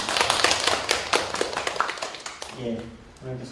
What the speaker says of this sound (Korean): 두번 박수 한번.